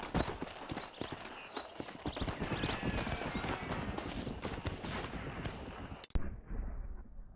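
Hooves clip-clop in a busy, uneven rhythm as a horse moves through Red Dead Redemption, with gunshot-like cracks and scattered game sounds over it, cutting off abruptly near the end.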